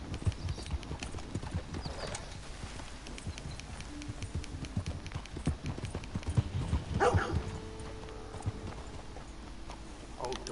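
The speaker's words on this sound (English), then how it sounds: "Horse is certainly getting faster" Fast, even hoof clatter of a horse at a gallop in a video game runs throughout, with a brief animal cry partway through.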